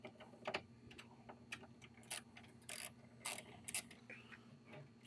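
Ratchet with a 5.5 socket backing out speaker screws in a 2007 Ford F250 door, heard as faint, close clicking and brief metallic ratcheting bursts at an uneven pace, fairly quiet overall.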